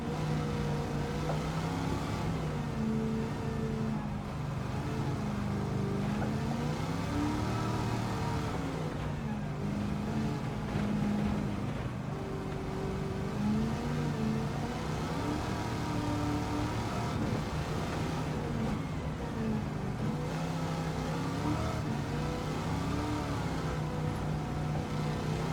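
A Pontiac Firebird at speed on the Nürburgring main straight, engine droning loudly and continuously with rising and falling pitch through gear changes, no voices.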